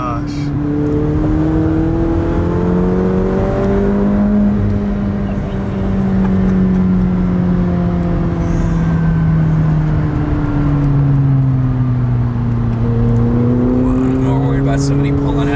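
A McLaren drives a hilly road with blind corners, its engine a steady loud drone inside the cabin that rises and falls in pitch as it accelerates and eases off, with people talking over it.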